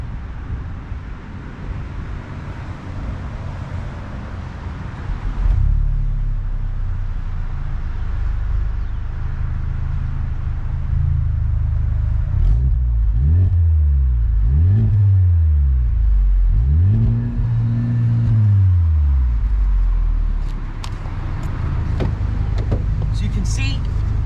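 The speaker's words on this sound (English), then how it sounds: "That 4-cylinder grumbling away" The 306-horsepower four-cylinder engine of a 2018 Honda Civic Type R idles with a low rumble, then revs repeatedly, pitch rising and falling in several swells before settling back to idle.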